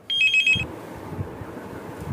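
A landline phone gives one short, bright trilling ring at the start, followed by quiet room noise.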